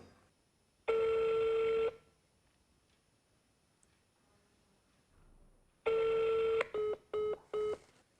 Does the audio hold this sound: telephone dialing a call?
yes